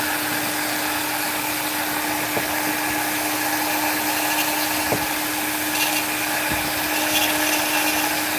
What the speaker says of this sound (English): I'm going to use this detail burr to bring this cheek down